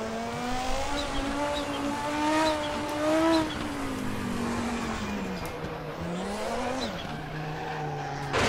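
Audi 90 IMSA GTO tires squealing through a drift in the RaceRoom racing game at RaceRoom Raceway, a steady screech over a droning engine tone that rises and dips with throttle, loud and close.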